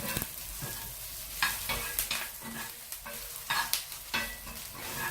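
Food frying in a pan over high flame for Dominican vegan spaghetti, seasoned with turmeric and black pepper, sizzles under a series of sharp utensil scrapes and clacks as pieces are flipped. The sounds are close and there is no speech.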